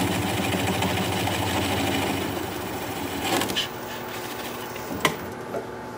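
A wood lathe turns a weeping birch blank at around 400 RPM, giving a steady mechanical hum that eases slightly midway, with a few sharp ticks and knocks near the end.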